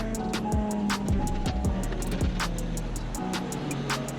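A car's power steering pump with a small leak whines steadily at a car wash bay, a constant tone running underneath a string of sharp, regular ticking clicks.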